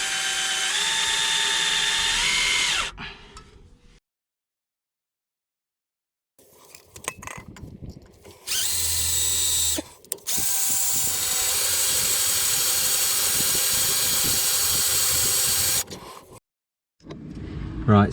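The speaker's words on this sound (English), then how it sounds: "So we're going to give it a go at drilling it out." A power drill whirs in long sustained bursts, loud and close, with pauses and metallic clanks between runs as it bores out a seized bolt on a Honda Civic EK3's front anti-roll bar link.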